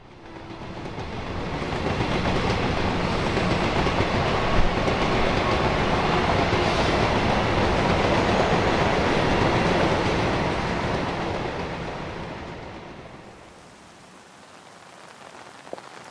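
A train in Chichibu, Japan rumbles along the rails, a loud steady roar building and holding before fading away as it passes.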